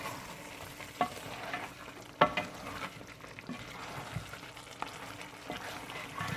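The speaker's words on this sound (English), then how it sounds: "let's just stir it around so everything gets incorporated" Sese yam gumbo, a Cameroonian yam dish, being stirred in a pot, soft scraping and wet mixing strokes with a few sharper clinks of the spoon against the pot over a low, steady cooking background, no talk.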